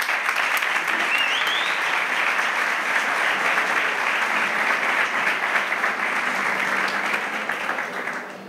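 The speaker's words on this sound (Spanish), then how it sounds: "Un fuerte aplauso." Loud, sustained applause from a crowd at a political party candidacy presentation in Conil, Andalusia, dense clapping with a brief whistle early on, tapering slightly at the end.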